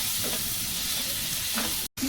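Mutton and tomato fry in a pan with a steady, close sizzle and hiss, with a brief cut near the end.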